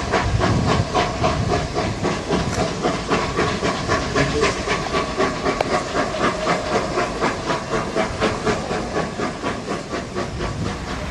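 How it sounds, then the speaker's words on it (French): Steam train at the Paris-Lyon railway station in 1958, giving off a loud continuous hiss of escaping steam with a rapid rhythmic chuffing pulse underneath, close and dense throughout. "Ici, c'est la gare de Paris-Lyon"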